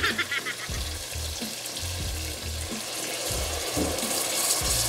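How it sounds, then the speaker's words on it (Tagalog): Vinegar poured into a pan of pork binagoongan with cooked shrimp paste and tomato, a splashing pour over a bubbling sizzle with low clunks, close and steady. "naluto na yung bagoong kamatis, ilagay nyo tong vinegar."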